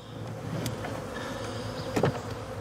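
Honeybees from a package box crawl out into a horizontal hive, making a faint, steady buzzing close by, with a few louder individual bees flying past.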